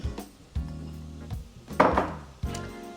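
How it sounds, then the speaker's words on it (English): Small onions tipped into a skillet of melted butter, with a few sharp clanks and clatters of utensil on pan spaced across a few seconds, fairly close. "we're going to add 2 small onions to the skillet"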